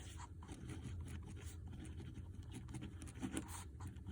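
Pen scratching steadily across paper while writing out a calculus answer, a faint continuous scrape of short strokes with no voice over it.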